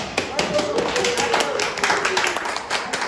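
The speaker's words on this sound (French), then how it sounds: "je demande encore aux mamans de se lever et d'applaudir les papas" A church congregation claps together in a brief burst of applause, steady patter of many hands, with some voices murmuring underneath.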